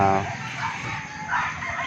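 Farm chickens and three-month-old ducks being fed raise a loud, close, crowing-like call, then softer clucking and fowl chatter continue alone.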